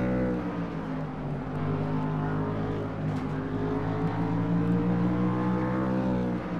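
Race trucks on the Flemington track roar past in a sustained, steady engine drone with layered revving, loud and close, with no talk over it.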